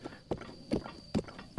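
Horse hooves clip-clop in a Zelda video game, four or five sharp, evenly spaced hoofbeats at a steady walking pace over a faint constant tone, with no talk.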